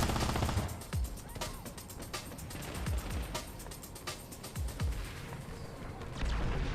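Gunfire in the online shooter Planetside 2 cracks out as a string of sharp, booming shots at irregular intervals over a rumbling battlefield backdrop.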